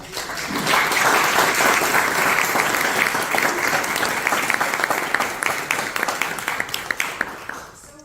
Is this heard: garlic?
no